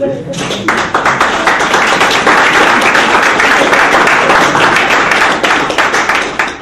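A congregation at a French-language church teaching session claps and cheers for the Holy Spirit, a loud, dense wave of applause rising quickly and holding steady throughout.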